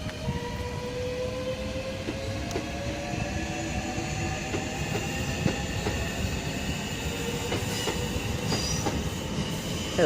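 A train pulls out of Dartford station, steady rolling rumble with rising wheel and motor whines and faint rail clatter, sustained and moderately close with no talking.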